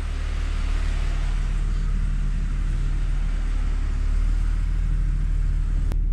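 A Ford EF Falcon drives along just after a differential change, its steady engine and road rumble filling the cabin at constant loudness, with one brief sharp tick near the end.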